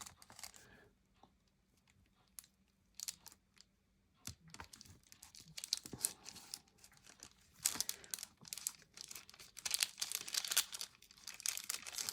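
Hardened wax seals being peeled and pried off paper during a first-time wax sealing session, giving quiet scattered crinkles, clicks and tearing crackles that grow busier and louder toward the end, with no voices.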